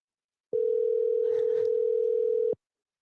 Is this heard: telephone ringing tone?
yes